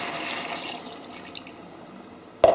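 Water pours into a pot of vegetable stew with tinned tomatoes, a soft splashing stream that fades after about a second and a half, ending in a brief sharp clink near the close.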